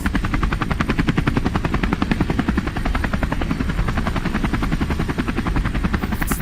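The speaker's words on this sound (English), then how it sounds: "It's a helicopter. It's literally a helicopter." A helicopter in the video game Into the Radius 2 thuds with fast, even rotor beats, loud and close throughout, over a constant engine roar with no talking.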